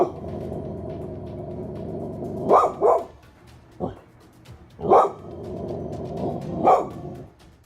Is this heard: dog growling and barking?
yes